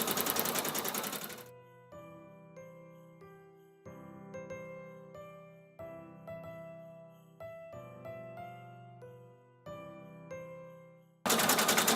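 An embroidery sewing machine stitches pouches for artist trading cards, running in steady bursts of rapid mechanical clatter with brief pauses between runs, close and clear, with a louder rush of noise at the start and end.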